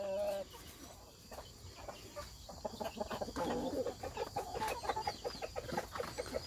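A brown rooster living in a rabbit enclosure clucks repeatedly in short, uneven bursts, close and fairly clear over low background noise.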